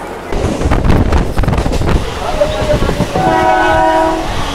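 A train pulls into a station on the route from Kolkata toward Mayapur, with a loud rumbling, clattering roll and a long, steady horn sounding through the second half, plus some wind buffeting on the microphone.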